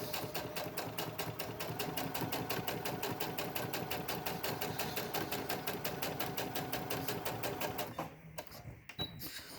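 A sewing machine stitches a filtered-pocket face mask at a moderate pace, a close, rapid, evenly pulsing needle rhythm lasting about eight seconds before stopping into a few clicks and handling noises.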